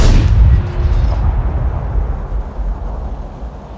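An artillery gun fires in a radio drama scene: one heavy booming blast at the start that rolls off into a long, fading low rumble, with no talk over it.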